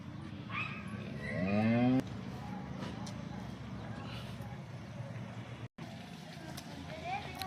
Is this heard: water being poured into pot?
no